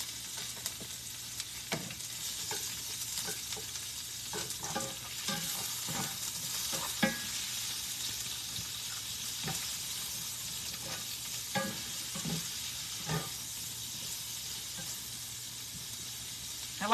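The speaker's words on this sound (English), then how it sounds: "I'm gonna throw these onions in here. I got them diced kind of thin. I'm gonna let these cook for a minute" Thinly diced onions frying in a skillet for chicken fajitas give a steady sizzle and hiss, with occasional scraping stirs and clinks of a utensil against the pan throughout.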